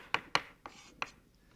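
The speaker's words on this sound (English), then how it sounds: "So the idea is chopping it fast" A knife chops fresh unsmoked bacon on a board in a few quick, sharp strokes, four distinct close thuds with short scraping tails and brief pauses between them.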